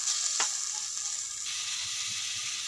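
Gongura leaves fry in a pan with a soft, steady sizzle, and a brief utensil tap comes early on. It is faint and close, with no voices.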